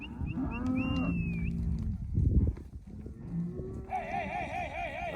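Cattle being herded to a gate moo repeatedly and close by, several long bellowing calls overlapping one another, with some rustling and thumping between calls.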